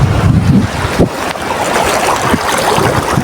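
Sea water churns and washes along a Konkan shore, a constant broadband roar heavily buffeted by wind on the microphone, loud and close with no talking.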